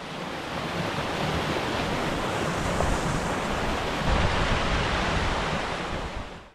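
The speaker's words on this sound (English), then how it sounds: "They hear all that water down there in the creek and they are very curious." Floodwater rushing through a swollen creek that has spilled over its banks into low-lying ground, a steady loud broadband roar of churning water with no letup, heard alone throughout.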